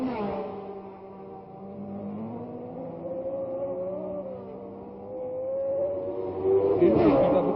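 Formula 1 cars race through the streets at the 1967 Monaco Grand Prix, their engines a steady, rising drone that swells louder toward the end. A commentator speaks over them throughout.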